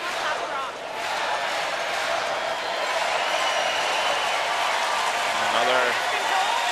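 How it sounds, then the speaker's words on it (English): Arena crowd applauding at the Ford World Women's Curling Championships during Canada v United States, cheering the announcement that the home hockey team, the North Bay Battalions, won their away game. It is a dense, sustained roar of clapping with talk mixed in. "applause as it's announced that the home hockey team, the North Bay Battalions, have won their away game"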